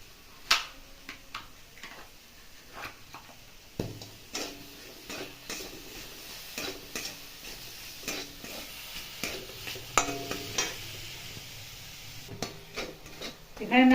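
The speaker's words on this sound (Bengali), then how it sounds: "এখানে নারকলের পুরটা নাড়িয়ে নাড়িয়ে হয়ে গেল।" Grated coconut filling with date jaggery being stirred in a pan, a soft scraping hiss broken by frequent irregular taps and knocks of the spoon against the metal, close and fairly quiet.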